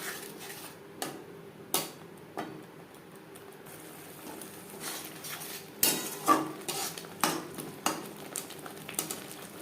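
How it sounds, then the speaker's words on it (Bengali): Spoon scraping and clinking against a pan while spice paste for vegetarian peas and paneer is stirred on a low-medium flame, a series of sharp metallic taps spaced irregularly over a faint background. "লো টু মিডিয়াম ফ্লেমে তিন চার মিনিট নাড়াচাড়া করে নেওয়ার পর দিয়ে দেবো মটর"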